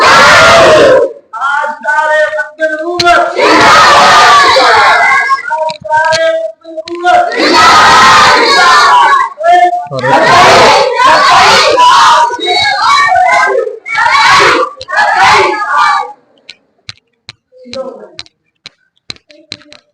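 At a religious gathering in Multan, a crowd roars loud, repeated responses to slogans shouted by a leader, with call-and-response bursts alternating with brief pauses, then a few scattered claps near the end.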